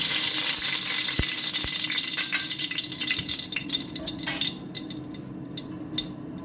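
Cooking oil sizzles and spits loudly in a frying pan at the start of a pork afritada recipe. A steady crackling hiss is broken by a few sharp pops and slowly settles toward softer sputtering, with no talking.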